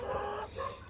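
A hen in a backyard coop gives a short, close clucking call in two quick bursts, with a sharp click at the very end.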